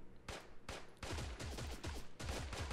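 Gunfire in an Android battle royale video game, heard as a run of rapid shots in several bursts with quick repeated cracks. The shots sound fairly faint and distant, and no one speaks over them.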